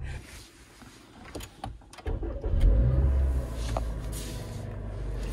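Inside a car in Canada, the engine starts and then idles with a low steady rumble, after a few clicks and knocks.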